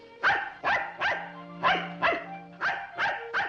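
A dog barks eight times in a steady, fairly close series of sharp woofs, each short and evenly spaced, with no voices over it.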